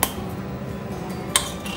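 A spoon scrapes and taps against a bowl while spice paste of garlic, cumin, ginger, sambar and chili is added to grated beetroot for paratha, giving soft close clinks with two sharper knocks.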